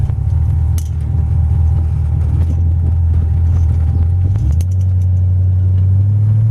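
A 1931 Ford 5W coupe hot rod drives along with a deep, steady engine rumble close by. Its pitch steps up near the end as it shifts and pulls away.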